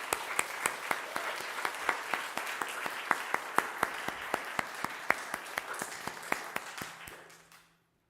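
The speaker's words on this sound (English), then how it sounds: "Let's give them another round of applause." A congregation at a Sunday church service gives a round of applause, many hands clapping in a steady, even patter that carries on for several seconds before quickly dying away.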